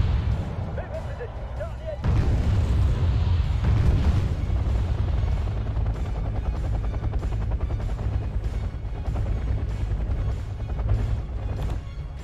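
Military helicopters set down troops in the Wargame AirLand Battle strategy game, with a steady rotor drone and rumbling bombardment booms running throughout, loud and continuous.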